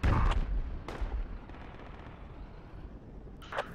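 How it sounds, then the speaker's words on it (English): A mortar round in the Project Reality combat game lands with a heavy booming blast at the start, followed by a second thud and rumbling aftermath, then another sharp crack near the end. "We took a direct mortar."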